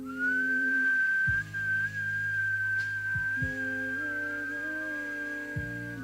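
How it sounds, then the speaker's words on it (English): A long, smooth whistling inhale during a breathing exercise, a steady sustained tone held for several seconds over a quiet background drone. "The inhale is a long, smooth whistle."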